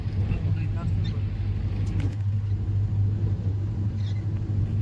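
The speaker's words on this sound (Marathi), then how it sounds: "गाडी आवाज येते ऑटोमॅटिक." A car cruises fast on the Samruddhi expressway toward Shirdi in rainy weather, heard as a steady low cabin rumble under continuous talking.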